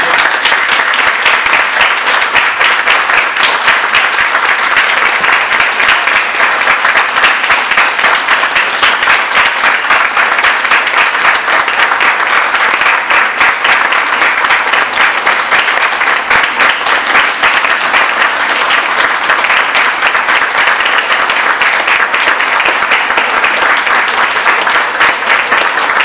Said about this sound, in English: let's give all the artists a round of applause as they come out